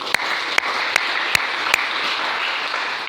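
A church congregation applauds the Lord in a steady, dense wash of clapping, with a few sharper individual claps standing out near the front, and no talking.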